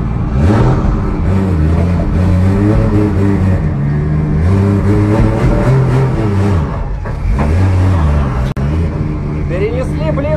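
A race car engine drones loud and steady as the car heads out for a first practice session at a drift round, the pitch rising and falling with throttle while wind rushes throughout.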